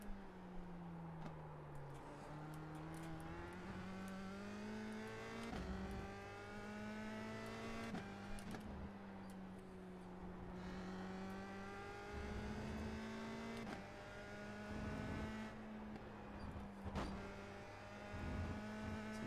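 A USF2000 racing car engine in the iRacing simulator drones steadily with harmonic pitch sweeps as it revs up and down through gear changes, loud and continuous with no talking.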